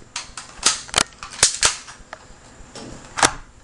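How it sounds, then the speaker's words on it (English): A UHC 1911 spring-powered BB pistol fires several quick shots: sharp snapping cracks in an uneven burst, close and loud, with faint mechanical clicks between them and no talk. "Show you guys a real fire demonstration."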